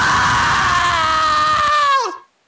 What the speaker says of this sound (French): Ça, c'est un cri de mec qui est mort.